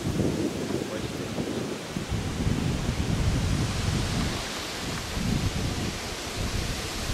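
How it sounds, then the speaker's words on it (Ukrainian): Strong wind roars continuously, with gusty rumbling buffets and rustling, loud and close throughout. "Правда, тут вітер великий."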